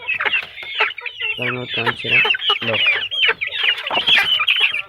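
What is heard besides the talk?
hen and chicks clucking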